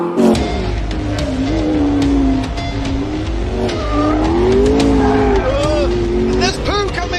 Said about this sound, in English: It's spinning its wheels in sixth!